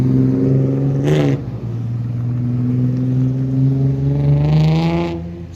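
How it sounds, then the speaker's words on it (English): Cars moving through an intersection in a small Québec town, engines humming close by with a steady tonal drone, one vehicle revving and passing, tyres hissing briefly at the start and end. "There's a lot of cars at this intersection for this small town."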